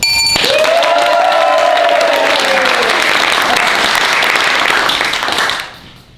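A crowd at a Human Blockhead sideshow act breaks into loud, dense applause and cheering, sustained for several seconds before fading out quickly at the end; a brief tonal whistle-like sweep rises above the clapping early on.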